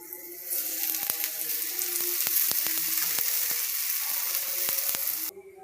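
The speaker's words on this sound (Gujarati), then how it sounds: "હવે આપણે તળી લઈશું." Moong dal paratha frying in oil on a pan, a steady bright sizzle with scattered crackling pops that runs close and continuous before cutting off near the end, with no talking.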